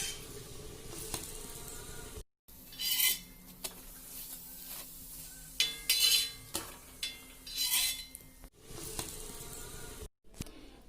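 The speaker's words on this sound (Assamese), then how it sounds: "তেৱাখন গৰম কৰি অলপ ৰিফাইন তেল দি লৈ পৰঠাখনৰ দুইটা ছাইড সিজাই ল'ব" A potato paratha fries in a little refined oil on a hot tawa, giving a soft steady sizzle with bursts of crackle and spatula scrapes, close up and without speech.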